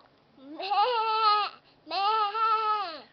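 A voice imitates a sheep's bleat, two drawn-out wavering 'baa' calls with a short pause between, close and clear.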